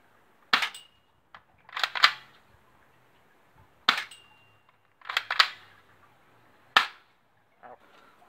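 Sharp BB gun shots in a backyard, several single cracks spaced a few seconds apart, some in quick pairs, loud and close with quiet gaps between.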